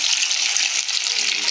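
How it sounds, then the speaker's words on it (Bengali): Hilsa fish pieces fry in a pan of hot oil, a loud, close and continuous hissing sizzle throughout. "এই যে ইলিশ মাছ ভাজছি"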